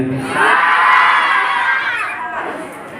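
A school crowd at a Maulid Nabi celebration cheers and applauds, with children's shouts rising into a loud swell that fades toward the end, voices mixed in.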